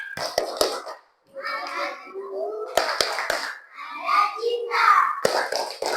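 Children in an Indonesian classroom perform the 'tepuk sukses' clapping chant: sharp clusters of hand claps alternate with chanted young voices in a call-and-response rhythm.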